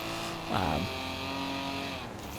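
Race cars in Forza Horizon 4, a Ferrari, a Supra and an RX-7, launch from the line with a sharp revving engine sweep rising and falling over steady motor drone, while a voice talks over it.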